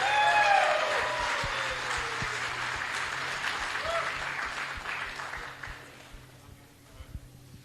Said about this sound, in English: But first, everybody give Matt a huge round of applause for making this series happen.